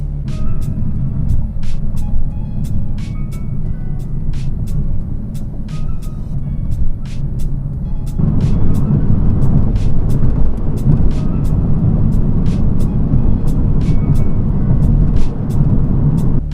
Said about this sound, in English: I'm just going to drive my car straight down the road